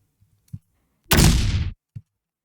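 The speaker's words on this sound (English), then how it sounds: "This is just an explosion that I use from another library." A single loud, sharp explosion blast that bursts and fades within about half a second, with a couple of faint low thumps around it.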